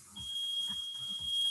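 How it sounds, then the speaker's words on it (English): A smoke alarm sounds in a home kitchen while steak frites are cooked, a continuous high-pitched beep tone over faint, muffled low thumps. "You actually get extra points if you set off the smoke alarm."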